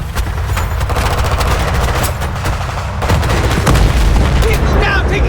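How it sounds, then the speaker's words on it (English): Continuous loud gunfire in the video game Battlefield 3 during an ambush from the trees, dense rattling automatic fire and booms throughout, close and intense, with shouted voices mixed in. "taking fire from the left!"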